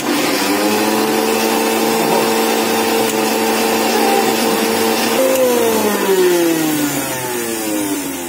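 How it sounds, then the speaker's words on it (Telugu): An Indian mixer grinder grinds ingredients into powder with a loud, steady motor whine. Its pitch drops and wavers past the midpoint as the load changes, and the jar runs without a break the whole time. "దీన్ని మిక్సీ పట్టి పిండి చేయండి"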